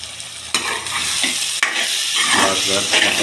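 Tomato and egg fried rice ingredients sizzle and crackle in a hot pan, with steady loud frying and a few sharp scraping stirs; no talking.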